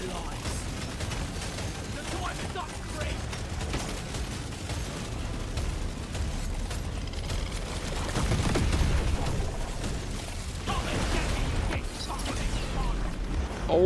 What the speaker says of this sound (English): Oh my god, that was a big explosion.